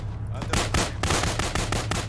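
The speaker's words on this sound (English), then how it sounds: "Oh, headshot, first shot." Rifle gunfire in a military video game on an Israeli forces mission, a rapid run of sharp close shots cracking at a steady rhythm over a low engine-like drone.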